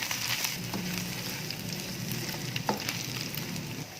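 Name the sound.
onion with ginger-garlic paste frying in pan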